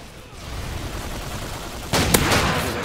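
Model 1887 lever-action shotgun firing in Call of Duty, a single loud blast with a sharp onset roughly two-thirds of the way through, rising above a steady rumble of game noise.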